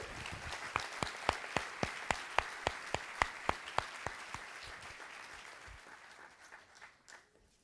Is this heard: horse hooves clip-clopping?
no